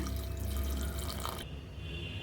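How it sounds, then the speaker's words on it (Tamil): Warm water poured into a pan of chicken masala for seeraga samba chicken biryani, a steady, close splashing pour lasting over a second before it stops, leaving a quieter background. "இப்போ தண்ணி சேர்த்துக்கலாம். பச்சை தண்ணி சேர்க்காம வெதுவெதுப்பான நீர் சேர்த்துக்கோங்க."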